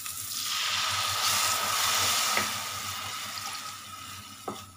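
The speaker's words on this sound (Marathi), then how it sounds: "आता यामध्ये पाणी टाकूया" Water poured into a hot pan of vermicelli, a rushing hiss that swells and holds for a few seconds, then eases into a softer bubbling with a couple of light knocks.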